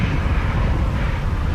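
Jet airliner engines roaring during departure at Amsterdam Schiphol Airport, a loud, broadband, steady blast of jet wash close by with no talk.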